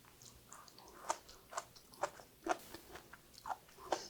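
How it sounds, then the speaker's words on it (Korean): Steady, close-up chewing of cooked garlic scapes, with soft rhythmic crunches about every half second against a faint background and no talking. "마늘종을 먹어볼까요?"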